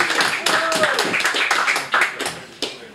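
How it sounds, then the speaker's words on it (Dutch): Claps ring out for a poet at a poetry club evening in Rotterdam. The clapping is fairly sparse and uneven, with a few sharper hand claps and some voices mixed in. "Applaus voor Erik Ruiger!"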